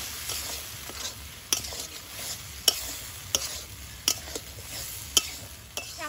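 Ground cumin paste fries in a pan for a chicken curry, a soft steady sizzle broken by sharp spatula scrapes and clacks against the metal every second or so, close by and without speech.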